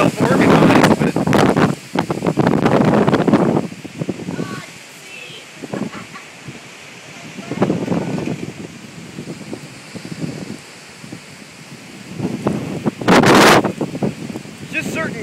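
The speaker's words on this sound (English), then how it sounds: "just certain gusts that are ridiculous here" Blustery wind gusts from a severe storm buffet the microphone in loud bursts, rising and dropping away, with a person talking intermittently between the gusts.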